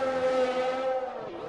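F1 race cars in a video game roll out onto the track, a sustained whining engine drone with a steady high pitch that dips and shifts near the end, close and loud with no talk.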